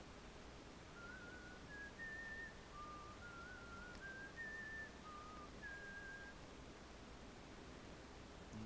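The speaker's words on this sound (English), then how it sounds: "you hear him whistling and humming?" Nobles in the Thief 2 stealth game whistle a meandering, faint tune of short sustained notes over a soft hiss of ambient background noise, with no talk.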